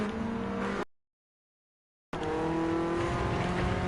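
BMW M3 race car engine in Gran Turismo 7, droning loud and steady with harmonic whine, cut by a full silent gap of over a second before resuming at the same level.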